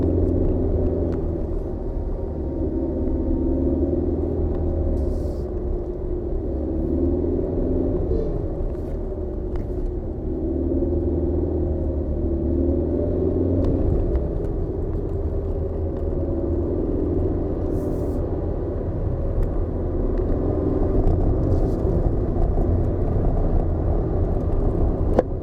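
A 2019 Proton Persona with a CVT turning around at a roundabout on the Genting hill climb, its engine a low, steady interior drone with constant road rumble throughout.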